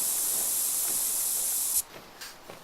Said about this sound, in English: so I should spray myself down here